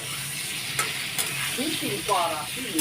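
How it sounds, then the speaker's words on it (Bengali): Potatoes fry in a hot pan with a steady, close sizzle while a utensil stirs them, making a few scraping knocks and a short rattling stir near the end. "এখন আমি আলুগুলো একটু ভেজে ভেজে নেব"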